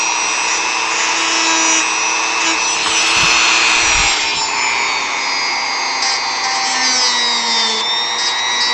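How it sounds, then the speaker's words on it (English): Power-tool carving on the rear foot of a Final Fantasy V model gives a steady high whine with rubbing, grinding scrapes, running continuously and close, with a couple of heavier grinding bursts midway. "I want to carve this down"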